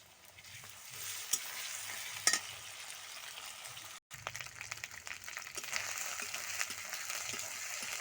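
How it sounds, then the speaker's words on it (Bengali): Steady sizzling of ginger, garlic and onion frying in hot oil, with occasional scraping stirs and clinks, close and continuous with no talking. "আমার আদা রসুন পেঁয়াজ ভাজা হয়ে গেছে"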